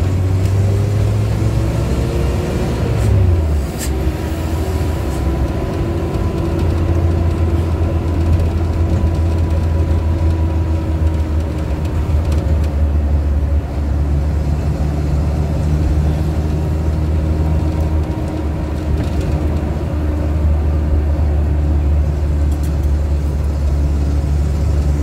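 A Suzuki Carry's engine running while driving on a road toward a junction and bend, a steady loud low drone with shifting pitch, continuous throughout with no talking.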